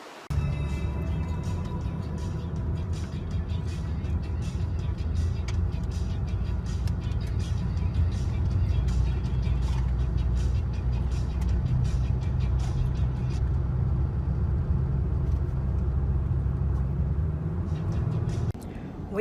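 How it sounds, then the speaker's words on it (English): Steady, close road and engine noise from a car driving through the North Carolina side of Great Smoky Mountains National Park, a continuous low rumble lasting the whole stretch with no talk. "We are right now driving through the North Carolina side of the park"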